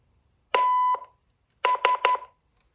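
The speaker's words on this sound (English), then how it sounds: "That beep is pretty loud." A sharp electronic beep from an early digital answering machine sounds, then after a pause a quick cluster of three short tones, loud and close with silence around them.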